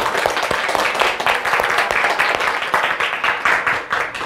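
A congregation claps to welcome newcomers at a church gathering, a dense, lively burst of hand claps sustained evenly for several seconds.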